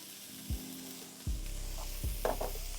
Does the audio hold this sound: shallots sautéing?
yes